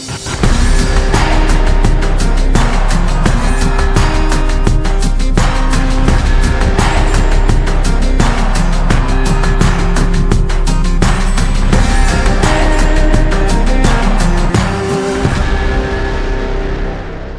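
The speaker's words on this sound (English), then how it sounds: "We're going to jump into this 850 and go for a drive." A Kubota 850 utility vehicle drives around a working farm, its engine a steady, loud drone with a constant low rumble that runs without a break for the whole stretch and fades only near the end.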